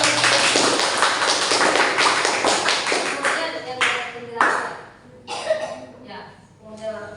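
A classroom of students claps their hands together, a dense burst of clapping that thins out and fades toward the end, with a few scattered final claps.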